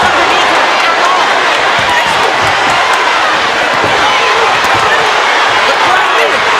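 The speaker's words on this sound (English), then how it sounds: "The crowd is going wild here in Flint" A dense, roaring arena crowd at a women's pro boxing fight in Flint cheers and shouts steadily and loudly, a wall of noise that stays constant throughout.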